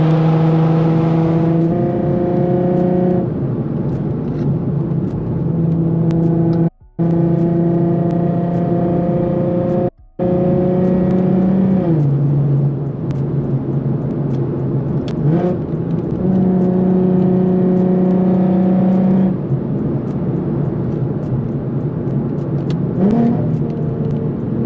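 A tuned Infiniti Q50 sedan accelerates hard on a canyon road, its loud engine note rising through gears in repeated climbs with brief drops between shifts, heard from inside the car.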